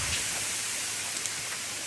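River water rushing where it meets the sea in a flood-prone spot, a steady, dense broadband hiss with no pauses, close and fairly loud, with no voices.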